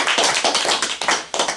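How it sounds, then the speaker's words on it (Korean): A family clan meeting breaks into applause approving a motion, brisk close hand clapping from several people, loud and continuous for a moment with no talk. "그럼 다른 의견이 없으시면 큰 박수로 의견을 승인해 주십시오."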